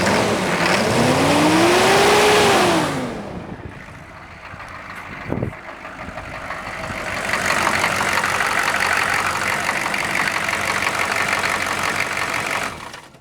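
A cold engine idles with its cooling fan failing to disengage: a loud whirring roar with a rising-and-falling pitch sweep fades, a brief clunk follows, then a steady, broadband fan drone builds again and continues to the end.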